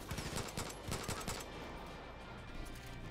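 Dense, overlapping gunfire from the PC shooter game Far Cry 5, with rapid bursts crowding the first second and a half before easing into a steadier rumble of combat.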